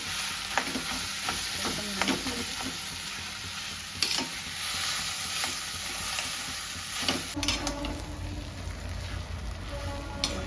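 Potato and spices fry in a kadai wok for a jackfruit chop, with a continuous crackling sizzle and repeated spatula scrapes and taps against the metal.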